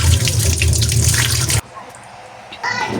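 Puti fish, with a few shrimp, are rinsed in running water, a loud splashing gush that stops abruptly, followed by quieter drips and a brief renewed trickle.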